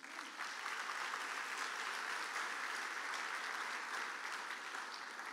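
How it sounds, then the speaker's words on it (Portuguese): A church congregation applauds during a Portuguese-language evening family service, a broad, even wash of many hands clapping that sustains without pause at moderate volume. "Dê um aplauso a Jesus."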